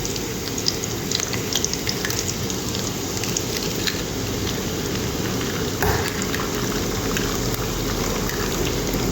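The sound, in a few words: egg frying with onions in hot oil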